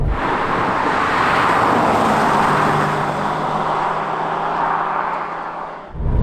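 A Porsche 993 Carrera 4S with four-wheel drive cruises at speed on a UK road, heard from inside as a steady, loud engine drone mixed with broad road and wind roar, with no talk.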